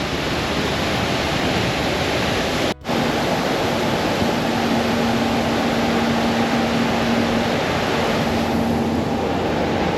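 A waterfall on a heritage walk near Llanberis in Snowdonia, its steady broadband rush of falling water filling the whole scene at constant loudness, with a brief dropout partway through and a faint tonal hum in the background.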